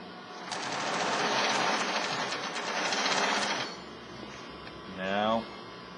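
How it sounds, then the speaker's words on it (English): A sewing machine stitching elastic runs continuously for about three seconds, then stops. A brief rising whir follows, and the room is otherwise quiet. "I can sew a few stitches to show you how it works."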